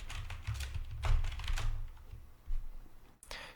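Keys on a computer keyboard clatter in quick, uneven bursts, close and moderately loud, with short pauses between runs and a brief cut near the end.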